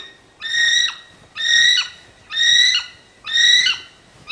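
A human voice imitating the call of a kiwi, a flightless bird, repeated four times in a steady rhythm, each shrill, rising-and-falling whistle-like cry about half a second long and loud, with no other talk.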